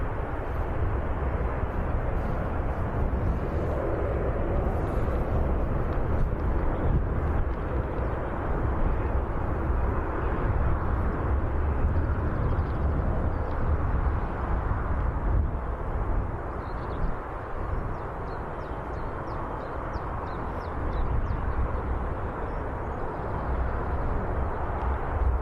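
An EasyJet airliner departing Birmingham Airport for Palma gives a steady, broad jet roar at a distance, a sustained rumbling wash that holds level throughout with a brief dip near the end.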